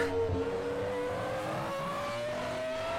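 A Ferrari 2004 F1 race car engine in a racing video game drones steadily at high revs, its pitch climbing slowly and continuously throughout, loud and alone with no talk.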